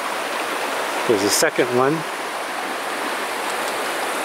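Small mountain stream on a backpacking trail, turned into a ford by high water, rushing steadily and close throughout, with someone briefly talking over it partway through.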